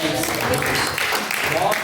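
A church congregation applauds during a live worship service, with dense, continuous clapping blended with voices throughout.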